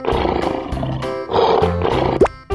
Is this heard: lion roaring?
yes